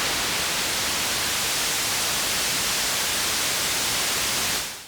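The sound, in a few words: synthesizer noise generator white noise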